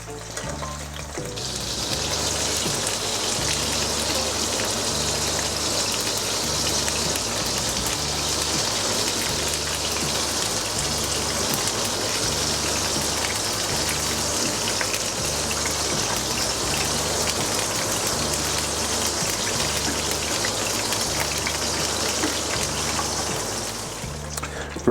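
Chicken meat frying in oil in a pan for an Asian garlic chilli curry, giving a steady, dense sizzle and crackle that runs loud and unbroken throughout with no talking.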